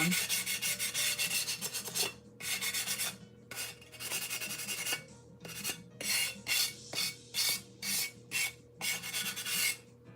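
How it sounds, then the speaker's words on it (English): The rough edges of a pottery piece are sanded by hand in short, rasping strokes, quiet and close, with the rubbing coming in irregular bursts and then in a faster rhythmic series toward the end. "I'm gonna check if any of the edges on this are rough. Just sand them down."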